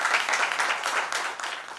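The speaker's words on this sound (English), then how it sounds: "please welcome Dr. Rajsekhar Kasula with big round of applause" Audience applause welcoming a speaker to the stage, a brief burst of many hands clapping at close range, dense and steady before tapering slightly.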